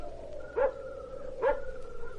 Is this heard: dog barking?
yes